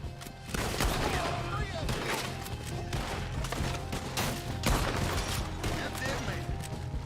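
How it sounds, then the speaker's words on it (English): Rapid gunfire in a Red Dead Redemption 2 shootout, dense overlapping shots and cracks filling the whole stretch, loud and continuous with heavier bangs among them. "We're gonna have to shoot our way out."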